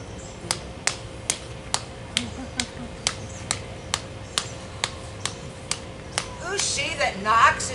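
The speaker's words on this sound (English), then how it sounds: "Who's she that knocks as she would beat down the gate?" Steady, loud knocking on a gate during an outdoor Shakespeare stage performance of The Taming of the Shrew, about fourteen sharp evenly spaced raps, followed by a brief stir of voices at the end.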